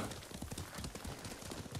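Horse hooves clip-clop in quick, uneven beats in the Ghost of Tsushima video game, faint and fairly close, with soft rustling in the background.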